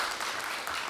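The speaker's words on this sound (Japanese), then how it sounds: "温かい拍手ありがとうございます。" Warm applause from an audience at a live ocarina show in a lakeside hotel hall, a steady dense wash of clapping with no break, held at an even moderate level throughout.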